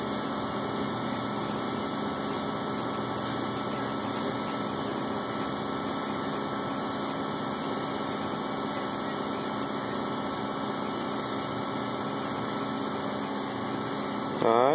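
A flywheel spins at 500 RPM on a balancing machine, producing a steady, even mechanical hum with a whirring drone that holds constant throughout and rises slightly at the very end.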